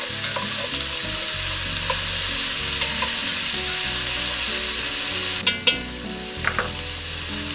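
Mirepoix vegetables sweat in olive oil in a pan with a steady, close sizzle and occasional stirring clatter, plus a few sharp knocks of a utensil near the end.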